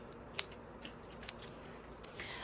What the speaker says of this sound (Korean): 그래서 저는 이렇게 가위로 정리합니다.